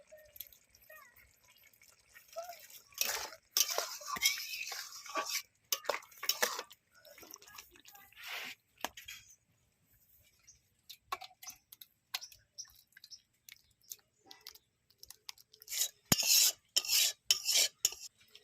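Poppy seed paste is stirred into ridge gourd in a pan, giving intermittent scraping and wet stirring strokes in irregular bursts with short pauses, close up and fairly quiet, with no talking.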